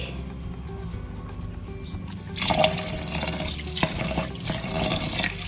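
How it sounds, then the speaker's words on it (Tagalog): Water pours steadily into a pot of rice and coconut milk, a running splash that starts abruptly partway through and continues with a bright, rushing texture. "Tapos dagdagan natin ng tubig."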